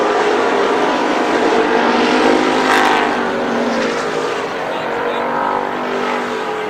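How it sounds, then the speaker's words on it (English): Sports Stock cars roar around the Columbus Motor Speedway oval in a feature race, a loud continuous engine drone with a pass-by swell, heard from the grandstand area under a race announcer's commentary. "Good side-by-side racing tonight in the Sports Stock feature."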